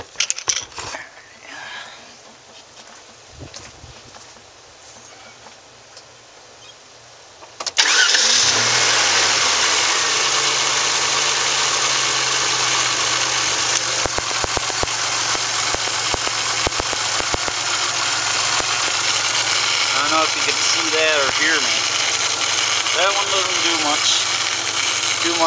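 Quiet surroundings with faint handling noises, then a car engine fitted with alcohol-water vapor injection cranks and fires, settling into a steady, loud idle close by with light rhythmic ticking; a voice speaks briefly over it.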